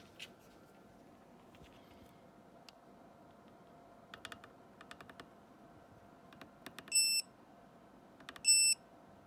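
Multicomp Pro MP780053 non-contact voltage detector testing low voltage around 10 volts, giving faint scattered clicks and then two distinct loud electronic beeps near the end against quiet room hiss.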